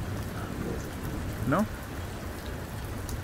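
Steady, dense rain falls during an October thunderstorm, a continuous hiss and patter close by; no clear thunder rumble stands out, and a person briefly speaks partway through.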